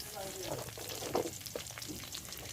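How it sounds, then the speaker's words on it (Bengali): Chopped onions and garlic are stirred in hot oil left over from frying eggs, for Hakka noodle chow mein: a soft sizzle with a few scraping spatula strokes, fairly quiet and close. "পেঁয়াজটাকেও নাড়াচাড়া করে নিচ্ছি"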